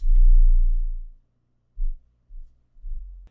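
An 808 bass in a rage beat booms in a loud, deep, sustained hit, then a few shorter low thumps follow in a sparse pattern, with no voices.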